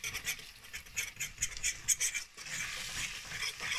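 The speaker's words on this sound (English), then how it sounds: "just stir that around good until it smooths out" Flour being stirred into onions in a cooking pot: a spoon scrapes and rubs in a steady back-and-forth rhythm, close and fairly soft, with a gentle sizzle underneath and no talking.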